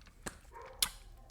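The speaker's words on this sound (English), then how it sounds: "So the neighbor's dog is going absolutely bananas right now." A neighbor's dog barks faintly in the distance, two short yaps over a quiet room with no talk.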